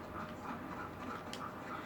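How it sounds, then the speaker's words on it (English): An old gray-haired dog in The Last of Us Part II pants while being petted, short breathy puffs repeating in a steady quick rhythm, close and clear. "Cute little puppy, let me pet him."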